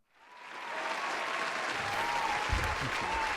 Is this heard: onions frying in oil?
no